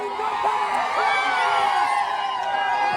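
A crowd of young people whoops and cheers at a college in Bijnor celebrating an exam pass, a continuous loud, dense wall of shouting voices with whistles and yells, close and unbroken throughout.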